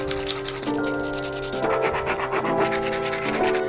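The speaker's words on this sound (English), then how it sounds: "this plastic is very smooth, so we need to do a bit of sanding first" Sandpaper rubs back and forth over a smooth plastic light switch in steady, continuous strokes, close and fairly loud, with a faint musical tone running underneath and no talk.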